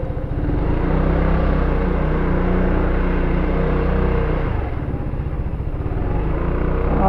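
FKM Maxi Scooter engine while riding, a loud, steady low rumble with dense pulsing throb and wind noise, close up and continuous with a slight dip in intensity partway through.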